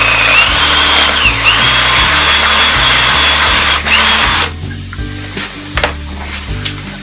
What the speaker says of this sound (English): So I need to put a puncture in it.